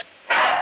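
A dog gives one short, loud bark up close, following a faint brief whine.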